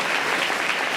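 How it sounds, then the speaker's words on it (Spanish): Church congregation applauding in praise during a worship service, a brief, dense and loud wash of many hands clapping together. "Fuerte ese aplauso de alabanza al Señor."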